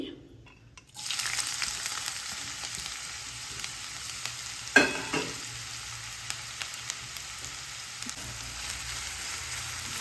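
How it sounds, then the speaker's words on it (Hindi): Onion dropped into a spoonful of hot oil in a home kitchen for a split-milk curry: after a brief quiet start, a steady bright sizzle and hiss sets in, with a sharp crackle midway and light stirring clicks, no talking. "मैंने यहाँ पे 1 चम्मच मैंने तेल गरम करने को रखा है। और ये जो प्याज है तो मैं यहाँ पे डालूंगी।"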